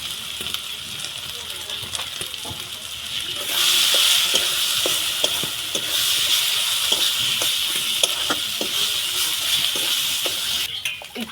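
Cumin and Kashmiri chili powder masala fry in oil for a mutton spare-parts curry, sizzling loudly and close, with a spoon scraping and tapping the pan in a steady rhythm that swells partway through.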